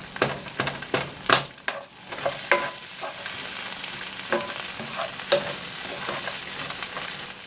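Food is stir-fried in oil in a large pan, close up: a steady sizzle runs under sharp, irregular clanks and scrapes of a utensil against the pan, busiest at the start, with no talking.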